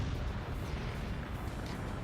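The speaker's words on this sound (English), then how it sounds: "it looks like explosion is the outcome here" A rocket explodes in the real-time strategy game Forts, heard as a dense, sustained rumbling blast with low-end roar that fills the whole moment, loud and steady without talk.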